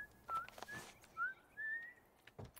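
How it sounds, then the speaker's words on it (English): A game character whistling in The Last of Us Part I, a few short thin whistled notes and slides, fairly faint and broken up by soft clicks and thuds of game sounds. "I'm whistling."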